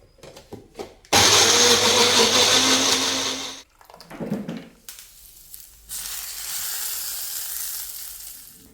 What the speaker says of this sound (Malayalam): തക്കാളി അതിൻ്റെ തൊലിയൊക്കെ കളഞ്ഞിട്ട് നമ്മളിതാ മിക്സിയിൽ ഇട്ട് കൊടുത്തിട്ടുണ്ട് കേട്ടോ. ഇനി ഇതൊന്ന് അടിച്ചെടുക്കാം.